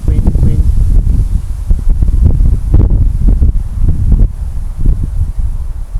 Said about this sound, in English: Get the odd gust that comes in.